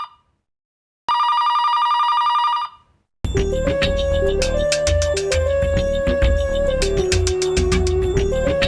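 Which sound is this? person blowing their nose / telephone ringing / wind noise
telephone ringing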